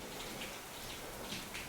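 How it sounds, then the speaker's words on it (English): Heavy rain pours down outdoors as a dense, constant wash of patter with no breaks, fairly loud and filling the whole moment. "it's raining pretty hard"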